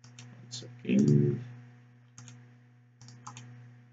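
Computer mouse being right-clicked during a live demo of clinic scheduling software: a few small, close, dry clicks spaced apart, with a brief burst of voice and faint background hum.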